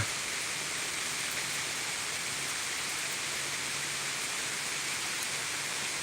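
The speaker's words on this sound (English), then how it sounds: "the rain's getting heavier" Heavy rain pours steadily during a storm at Thurmond, West Virginia. The wash of falling water is dense and even, with no talk over it.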